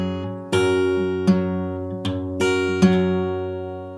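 A guitar plays a passage from a song, a low bass note ringing under five crisp strums spaced about a second apart. Close and clear, with no voices.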